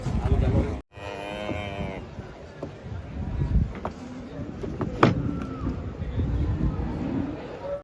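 Large cattle moo loudly and deeply at close range while coming down off a truck, with rumbling engine noise and background chatter mixed in.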